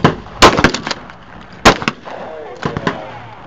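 Shotgun shots at clay targets at an outdoor birthday shootout: several sharp loud blasts in separate clusters with short echoing tails, some close together, and faint background voices in between.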